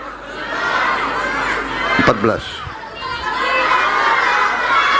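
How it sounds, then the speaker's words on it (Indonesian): Crowd of children shouting and cheering at an outdoor dam inauguration ceremony, a loud, sustained roar of many young voices with a brief burst of nearby activity midway. "Kalau semua teriak saya nggak bisa dengar."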